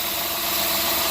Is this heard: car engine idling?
yes